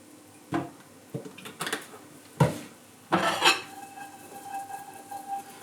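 Asparagus tossed in olive oil clatters in a pan, with a few separate metallic knocks and utensil scrapes followed by a faint, quiet sizzle close by.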